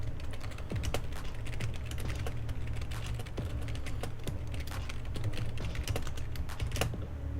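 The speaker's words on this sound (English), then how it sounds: "Some of that typing ASMR." Rapid clacking of a computer keyboard, fingers tapping keys in quick irregular bursts, close and clear over a low steady background hum, with no voices.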